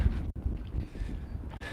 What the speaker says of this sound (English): Oh, a little windy here.